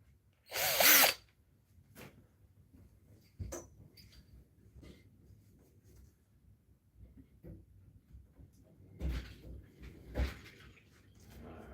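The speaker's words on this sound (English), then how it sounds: "Got the Bauer drill." Short bursts of a Bauer cordless drill whirring while mounting holders on a bathroom wall, one loud near burst followed by scattered quieter spins and clicks with pauses between.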